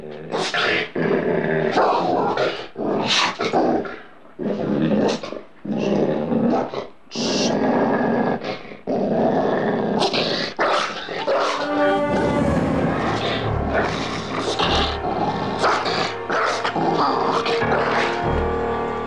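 A pit bull growls, snarls and barks in repeated loud bursts close by, with people talking in between and over the aggressive vocalizing.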